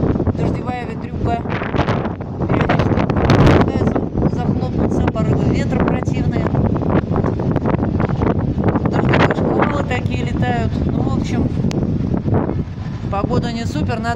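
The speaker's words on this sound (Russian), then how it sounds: "Вот такая у нас дождевая ветрюга" Strong gusty rainy wind roars and buffets the microphone continuously, with a rushing, rain-swept texture that stays loud throughout.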